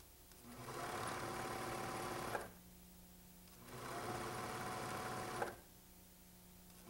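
A sewing machine stitching the inner leg seam of homemade shorts, running in two bursts of about two seconds each with a quieter motor hum between them.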